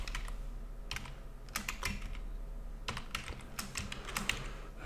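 Bursts of typing on a computer keyboard, close and clear: quick clusters of key clicks separated by short pauses, with no voices.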